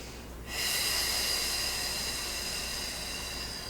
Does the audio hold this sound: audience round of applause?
no